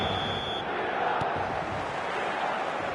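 Stadium crowd in the eFootball 2025 video game on a clear night, a continuous boisterous roar of many voices, steady and broad, with a brief sharp tick partway through.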